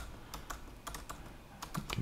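Keystrokes on a computer keyboard while entering Stripe test card details, a quick irregular run of crisp taps in small bursts at close range, with no voices.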